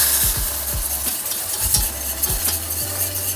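A spoon scrapes the bottom of a pan of whole-milk cream sauce for a chayote gratin, a steady run of soft rhythmic scraping strokes over a continuous hiss of gentle bubbling and sizzle, close and alone.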